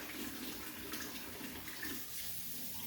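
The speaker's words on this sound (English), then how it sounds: "I'm going to rinse my hands off." Running tap water splashing over hands as they are rinsed at a sink in a kitchen, a steady, moderately quiet hiss and patter with small changes as the hands move under the stream.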